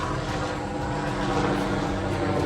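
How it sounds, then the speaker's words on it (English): A police helicopter passes overhead outdoors, its steady rotor and engine rumble filling the whole stretch at an even, moderately loud level with no speech over it. "I believe that's the police helicopter that's flying by"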